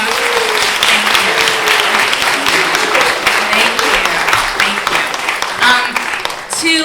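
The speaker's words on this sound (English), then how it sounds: "Can we have a big round of applause for them?" Sustained, loud applause from an audience fills the whole stretch after a speaker's call to honor Basement Workshop alumni, dense clapping throughout with brief voices mixed in.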